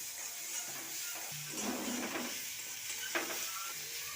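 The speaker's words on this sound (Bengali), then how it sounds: "অল্প একটু সরষার তেল দিয়ে দিচ্ছি এবার দিয়ে দেবো একটা কাঁচা লঙ্কা কুচনো পেঁয়াজ নেড়ে নেব হালকা করে" Chopped onion and green chili fry in mustard oil while being stirred, producing a steady close sizzle and hiss broken by scraping stirs of the spatula.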